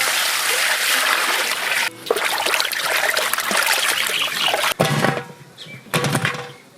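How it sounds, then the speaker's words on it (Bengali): Water splashes and trickles steadily as a katla fish head is rinsed for a curry, with a few brief breaks in the flow. "মাছের মাথাটা ভালো করে ধুয়ে নেব। আর একবার ভালো জল দিয়ে ধুয়ে নেব।"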